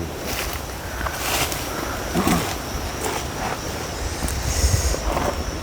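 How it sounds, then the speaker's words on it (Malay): Strong wind buffets a microphone outdoors near the sea, a continuous rumbling roar with gusts swelling and fading throughout. "Angin kuat."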